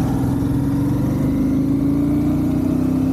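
Royal Enfield Super Meteor 650 motorcycle engine running steadily at the start of an early-morning ride toward Ranthambore, a loud continuous twin-cylinder drone with a slowly rising pitch and no voices.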